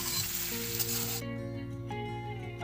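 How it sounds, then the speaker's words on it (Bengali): Potatoes with turmeric fry in oil as a spatula stirs them, giving a bright, close sizzle that drops away sharply midway and leaves a quieter hiss under a backing tune. "অল্প একটু হলুদ দিয়ে আমরা খুন্তির সাহায্যে নাড়াচাড়া করে আলুগুলোকে হালকা ভেজে নেব"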